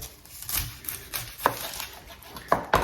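A knife cuts through a yellow onion on a board, with a few sharp, separate chops spaced irregularly at close range over soft background noise.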